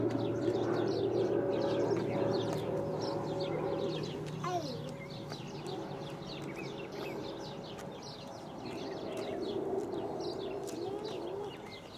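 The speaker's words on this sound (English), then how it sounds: "We're being stalked by birds. They want to come over to the bird feeder." Wild birds around a backyard bird feeder in spring, with soft cooing and scattered chirps at a moderate distance over a steady outdoor background hum.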